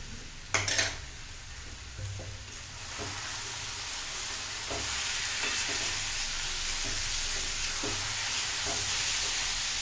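Homemade desi ghee sizzles in a pan for carrot halwa. A few metallic clinks from a spoon come early, then a steady frying hiss builds and stays loud and close, broken by faint scrapes.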